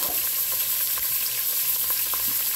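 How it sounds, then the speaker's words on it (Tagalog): Carrots and potatoes frying in hot oil in a home kitchen, a steady close sizzle with scattered small pops and crackles throughout, no voices. "Prito muna itong mga carrots at patatas."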